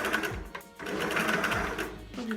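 A sewing machine runs through fabric in quick steady bursts, its rapid needle chatter briefly pausing midway before stitching resumes, close and clear.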